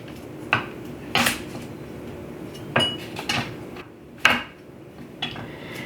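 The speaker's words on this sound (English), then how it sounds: "In fact, I need to cut up my shallot" A knife chops a small reddish shallot on a board, giving a handful of separate sharp knocks spread unevenly over several seconds, each close and crisp with quiet pauses between.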